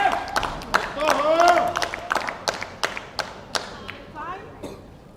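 Thailand supporters clap and cheer at a boccia pairs BC4 final in Liverpool, a burst of close crowd applause and sharp claps that thins to scattered claps as a commentator talks over it.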